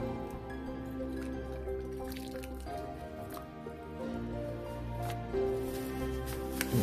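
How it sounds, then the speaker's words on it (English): Boiled water pours and trickles into a measuring cup, with soft splashing and a rising tone as it fills, close by. "We're going to use some boiled water, 1 cup."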